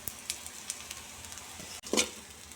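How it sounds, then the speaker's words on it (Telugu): Grated fresh coconut frying in a pan, a close sizzle broken by sharp scraping stir strokes, the loudest burst near the end, with no talk. "పచ్చి కొబ్బరి వేసుకోగానే బాగా ఇలా ఫ్రై చేసుకోవాలి"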